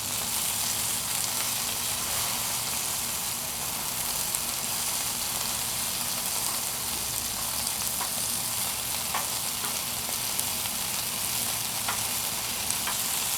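Chicken wings sizzle and fry steadily on a Blackstone griddle, a constant close crackling hiss with occasional small pops and no talking.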